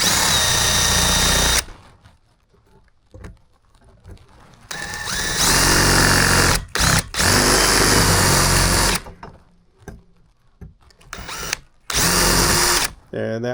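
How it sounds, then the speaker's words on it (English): A power drill bores out soft aluminum rivets during maintenance work at a villa. Loud bursts of whining drilling come in several separate runs, broken by quiet gaps and brief clicks, close to the microphone. "we're going to drill out these rivets"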